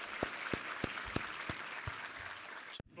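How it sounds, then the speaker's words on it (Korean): A church congregation claps in praise, with faint, evenly spaced beats like a slow unified rhythm over a softer wash of hands, stopping abruptly near the end. "우리 하나님께 감사와 영광의 박수 올려드리겠습니다"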